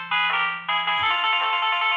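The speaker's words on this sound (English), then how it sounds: "Excuse me, I have to get a phone call." A phone ringtone goes off during an indoor Talmud study class: a loud, bright electronic melody of sustained tones that stops briefly and then repeats, heard alone without speech.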